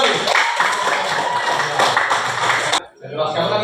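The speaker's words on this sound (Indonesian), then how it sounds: "Kasih dulu tepuk tangan yang kedua kali." Applause from an audience in a hall, steady dense clapping mixed with some voices, ending abruptly near the close.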